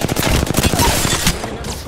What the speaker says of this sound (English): Fox 3 launching missiles.